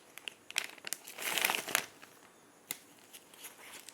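New plastic zip envelopes handled during an unboxing, close crinkling and rustling in short bursts with a louder crumpling flurry near the middle, then scattered light handling sounds.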